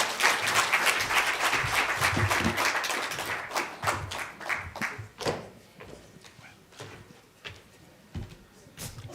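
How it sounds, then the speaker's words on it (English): Applause from the audience at the 2023 Census main report launch, dense clapping at first that gradually thins into scattered individual claps as it dies away. "Another round of applause, please."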